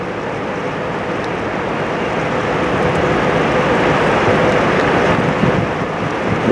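Strong wind buffets the microphone on a boat deck in Antarctica as a loud, steady roar with broad rushing noise throughout and no clear pauses.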